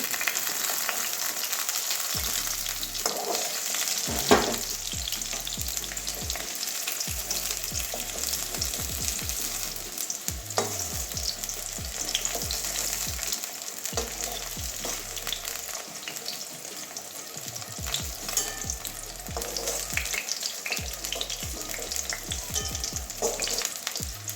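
Fried pointed gourd (potol) is lifted out of hot oil with a spatula, the oil draining back as steady frying sizzle continues close up, with faint scrapes and clinks of the metal spatula in the pan and no talking.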